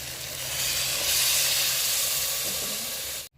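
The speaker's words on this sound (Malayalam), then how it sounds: "ഇനി നമുക്കിതിലേക്ക് 3-4 കപ്പ് തിളച്ച വെള്ളം ഒഴിക്കാം." Boiling water is poured onto spice powders sautéed for a country chicken curry, setting off a loud, rushing steam hiss that swells and holds steadily before cutting off abruptly, close and without talk.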